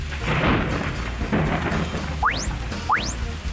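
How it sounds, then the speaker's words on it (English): A thunderstorm with steady rain and low rumbling thunder throughout, broken by two brief rising whistling tones near the end. "Stormy."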